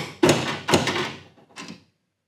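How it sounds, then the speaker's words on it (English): A few firm knocks with a hand tool on a gas furnace's high limit switch, three sharp metallic taps close up, each with a short ringing decay, then silence. "take your tool of choice and then just knock on that high limit switch with a few firm taps"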